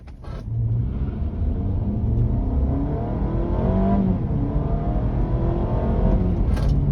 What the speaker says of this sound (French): la voiture accélère quand même beaucoup plus fort